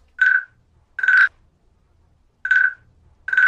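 A small wooden frog instrument is scraped with a drumstick, giving four crisp ratcheting croaks in two spaced pairs, close and clear against near silence.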